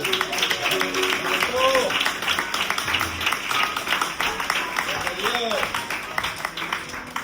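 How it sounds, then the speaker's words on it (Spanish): Applause from a church Bible study congregation, dense clapping spread across the room, with voices rising through it and a few sung or called-out tones mixed in. "Vamos a darle un aplauso para Él."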